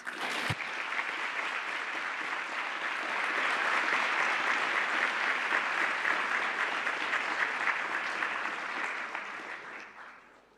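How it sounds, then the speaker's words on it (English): A large assembly gives a sustained round of applause for student officers at a Model UN opening ceremony, dense and even, swelling slightly mid-way and dying away at the close. "Let us once again give these student officers in the Special Assembly a much-deserved round of applause."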